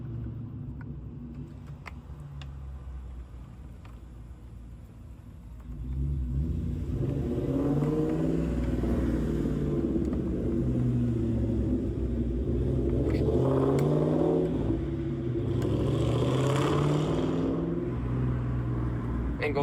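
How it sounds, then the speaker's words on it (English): A Ford Mustang engine rumbles at idle, then revs louder and keeps growling steadily, a deep throaty roar close by with faint background noise. "that Mustang did not sound bad"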